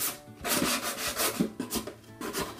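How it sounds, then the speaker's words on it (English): Rough sanding strokes from a coarse sanding block rasp back and forth across painted wood cabinet edges in a steady rhythm, close and fairly loud, with no talking. "I'm using a pretty rough sanding block here, and I'm just sanding the edges"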